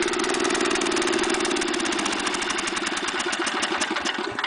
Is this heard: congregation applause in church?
no